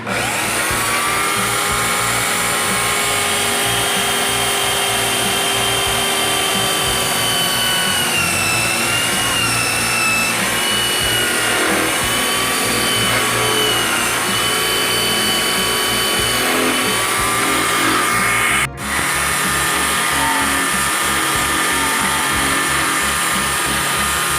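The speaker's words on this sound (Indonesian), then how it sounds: "Selanjutnya kita bor ya, sesuai dengan garisnya." A power drill whines steadily and loudly throughout, its pitch wavering as it bites into a coconut shell, with a brief dip near the end.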